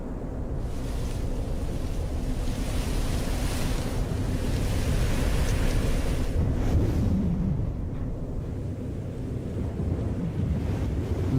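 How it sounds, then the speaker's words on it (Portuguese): Humid wind blowing steadily across a dry prairie landscape, a broad, continuous roaring rush with gusty swells and buffeting, loud and unbroken with no voices. "um vento úmido começa a soprar"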